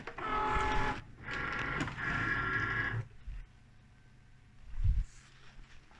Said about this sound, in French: Il n'y a plus qu'à enclencher la découpe et laisser la machine travailler.